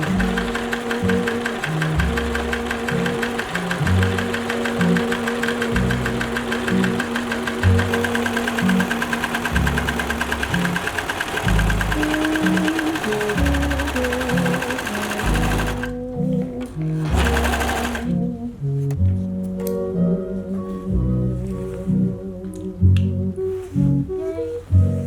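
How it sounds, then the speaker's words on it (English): A new serger stitches a seam in a steady, fast mechanical whir with a rhythmic chatter. It runs almost without a break, then pauses and stutters briefly near the end. "show you my cool new serger"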